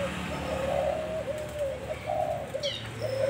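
Thai white-spotted doves cooing, a steady series of soft, low rolling coos repeated over continuous background noise, with a faint chirp partway through.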